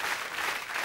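A short burst of dense, steady clapping from a crowd, fairly loud throughout.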